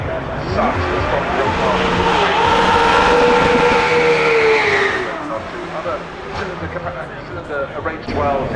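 An Aston Martin Victor with a V12 engine accelerating up a hillclimb course, a loud sustained engine roar rising in pitch as it climbs, then fading as the car pulls away, with a commentator talking throughout.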